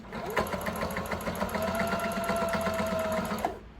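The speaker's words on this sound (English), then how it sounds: "So you're just going to sew across the top and use the Velcro for the bottom." A sewing machine stitches Velcro onto a fitted fabric face mask, a close, fast, steady mechanical whirring with rhythmic needle thumps that runs nearly the whole time and stops abruptly at the end, with no talking.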